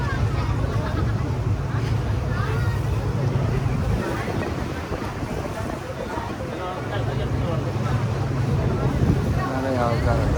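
Boat crossing from Vivekananda Rock to Kanyakumari, with a steady low engine drone and constant wind and water rush throughout, loud and close, with faint voices of passengers in the background.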